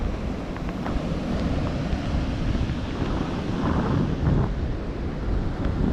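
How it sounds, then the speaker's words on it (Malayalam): Sea waves surging onto a beach, a continuous heavy roar of surf with wind buffeting the microphone, loud and steady without talk. "അതിൻ്റെ കൂടെ തിരമാലകൾ വരുമ്പോൾ ഇങ്ങോട്ടും വെള്ളം തള്ളി വരുന്നുണ്ട്"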